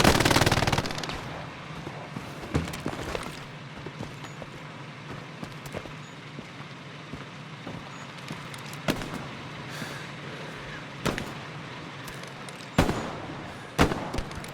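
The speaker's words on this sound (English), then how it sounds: "Somebody's still taking pepper and pop shots over here at us." Gunfire in the World War II shooter Hell Let Loose on the El Alamein desert map: scattered single shots and short bursts crack out, some close and sharp, others more distant, over a low rumbling background.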